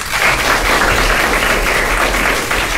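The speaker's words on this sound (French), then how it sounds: "On peut l'applaudir, s'il vous plaît?" Steady applause from a crowd fills the whole stretch, a dense even patter of clapping with no voices over it.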